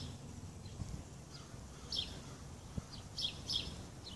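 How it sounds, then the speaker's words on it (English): Birds sing in a quiet garden grove, with a few faint, high chirps scattered over soft outdoor background hush. "Peaceful, quiet, birds singing."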